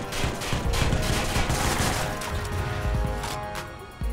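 Gunfire in the video game Watch Dogs: a dense, continuous burst of rapid shots and impacts, loud and close, runs almost without pause across the whole stretch, with a brief lull near the end.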